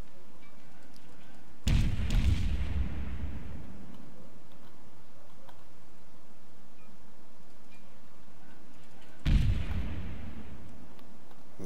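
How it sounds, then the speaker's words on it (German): Naval guns fire in World of Warships at the cruiser New York: two heavy, booming salvos several seconds apart, each a deep thud with a rolling tail, over a steady low background hum. "Jetzt können wir da hinten noch ein bisschen auf die New York schießen."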